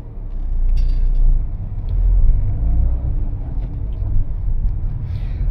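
A car on a road gives a low, steady engine rumble that swells and eases as it moves off, heard from inside with no one talking.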